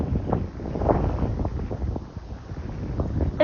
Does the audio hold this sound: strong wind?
yes